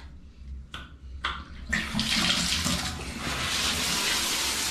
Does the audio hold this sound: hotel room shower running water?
yes